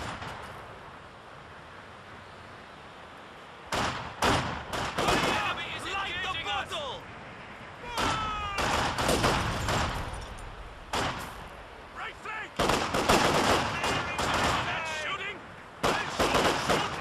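Gunfire during an ambush in Company of Heroes 2, rapid bursts of rifle and machine-gun shots in several clusters after a quiet opening, loud and near, mixed with battle noise and shouting voices.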